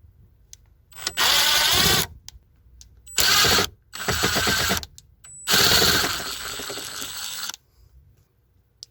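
A power tool removes screws from the dashboard of a 2001 Jeep Grand Cherokee, its motor whirring in four separate bursts of about a second or two each, the last run longest and winding down, with quiet gaps between.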